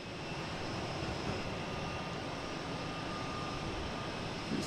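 A British Airways Airbus A380-800 jet, inbound from London Heathrow, approaches Boston Logan with a steady, moderately loud broadband engine rush and a faint high whine, unbroken for a few seconds with no voices.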